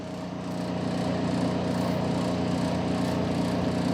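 A milling machine boring out a broken radial arm saw casting at about 600 RPM, giving a steady, loud droning mechanical hum that holds evenly throughout with no talking.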